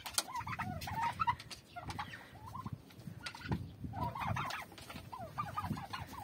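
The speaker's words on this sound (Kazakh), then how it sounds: "Қазір 5 күрке тауық туып бастады." Turkey hens at their laying spots on a farm cluck and gobble in repeated bursts, with several birds calling over one another fairly close by against a low, steady background.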